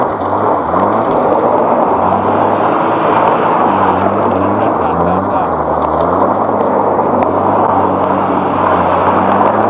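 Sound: Ford Sierra Cosworth engine revving

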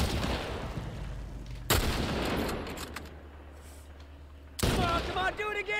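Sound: gunfire in the video game The Last of Us

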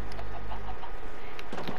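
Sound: chickens clucking in the video game Minecraft

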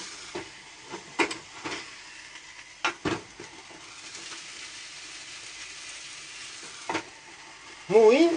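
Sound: yakitori sizzling in hot sandwich maker

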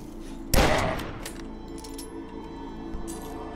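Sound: gunfire shooting cultists in video game DUSK

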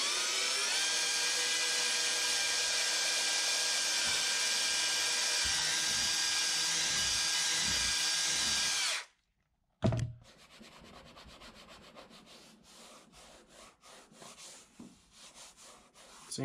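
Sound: electric drill boring hole in canoe hull

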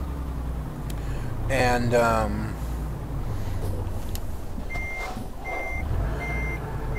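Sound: MAN truck engine in Euro Truck Simulator 2 video game

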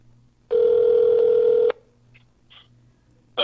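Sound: telephone dialing tones for SBA customer service call

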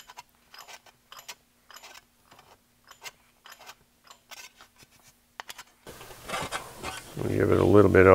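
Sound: abrasive tool smoothing metal car fender panel

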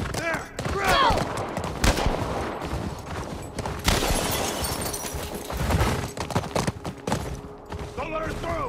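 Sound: gunfire in video game The Last of Us Part I

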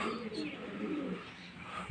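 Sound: pigeons cooing

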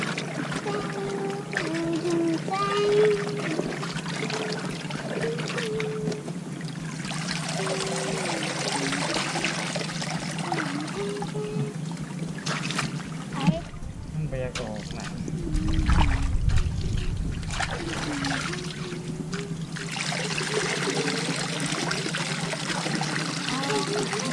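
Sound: washing mud off freshly caught crabs and shellfish in water

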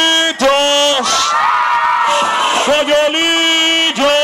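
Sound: carnival crowd shouting on cue at Coyolillo Carnival

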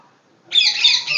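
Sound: parrots calling in a large cage

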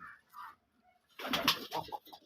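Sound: red Raj Golla pigeon cooing

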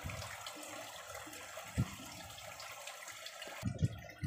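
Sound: water splashing from SOBO FG-1904 aquarium filter outlet like a waterfall

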